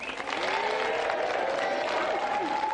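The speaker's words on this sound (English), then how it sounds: "Round of applause for Mel." A television studio audience applauds a guest, steady dense clapping with some crowd noise and a voice speaking faintly underneath.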